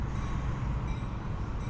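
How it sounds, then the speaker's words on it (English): A Metra commuter train rolls through downtown Mount Prospect, a steady loud rumble of rail noise filling the whole moment with no break. "looking at a Metra train that will take you downtown in about 33 minutes"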